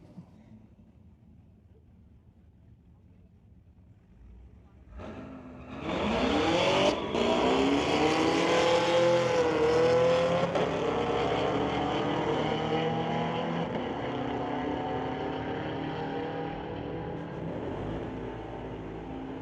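Two Chevy Camaros launch at a Mission Raceway Park street-legal drag race. A low idle gives way to a sudden loud roar of accelerating engines with rising revs through the gears, holding strong as the cars pull away.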